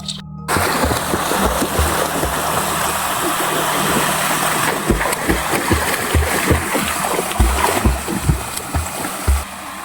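Water splashing as it is thrown and spread across a fish pond during pond preparation, a steady run of close, uneven splashes and splatters over a low engine-like hum, with no speech.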